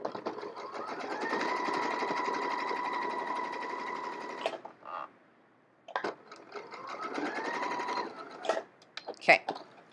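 A sewing machine stitches through all the layers of a zip pouch in two sustained runs, a rapid mechanical whirring rattle that pauses briefly between runs and ends with a few clicks, with a voice talking over it.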